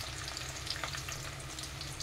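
Tempering of curry leaves, turmeric and asafoetida frying in a pan for a tamarind amla pickle, a steady close sizzle and crackle of hot oil with no talk.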